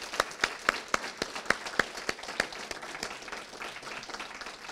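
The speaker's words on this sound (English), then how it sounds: "let's wrap this up with a big round of applause for the 7 MFA poets who read this" A small reading audience claps for MFA poets, with distinct individual claps at first that loosen and fade into scattered patter toward the end.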